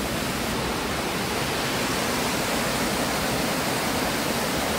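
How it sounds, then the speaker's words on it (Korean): A waterfall on Ulleungdo, a mountain island, pours from above into a valley stream, a dense, constant roar of rushing water, loud and close, with no other sounds. "저 위에서 물이 떨어져서 이렇게 계곡으로 흘러내려가고 있습니다."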